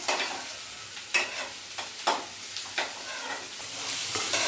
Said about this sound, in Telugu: చేసి పెట్టిన మిర్చి కూడా వేసుకునేస్తాను